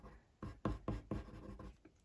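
A Silver Grey Luminance coloured pencil on drafting film, giving a series of soft scratchy strokes, about six quick close scrapes in an uneven rhythm, quiet and alone.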